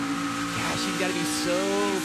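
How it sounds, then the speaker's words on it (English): A NASCAR Xfinity Series race car engine hums and rises gently as the driver eases onto the throttle, a steady mid-level drone carried under broadcast commentary during the championship race. "so careful with the throttle, though. You hear him just pushing it down so slow."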